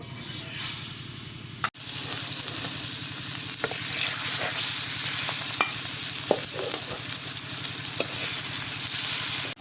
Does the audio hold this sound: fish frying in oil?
yes